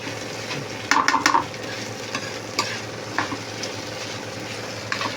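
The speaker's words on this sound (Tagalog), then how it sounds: "habang ginigisa natin yan, ilalagay na po natin yung ating hinimay na tinapa" Corn and flaked smoked fish sautéing in a pan, a steady close sizzle broken by a few sharp scrapes and clinks of a spatula stirring.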